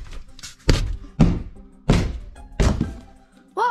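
An object at the end of a tunnel being knocked down, with four heavy thunks and bangs at irregular intervals, loud and close, separated by quieter scuffing and ending with a brief squeaky tone.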